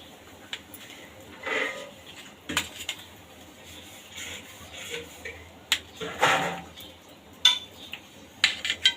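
A knife cuts cooled baked batti dough balls into pieces on a plate, giving scattered sharp clinks and taps against the dish with quiet gaps between them.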